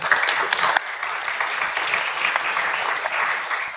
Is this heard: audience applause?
yes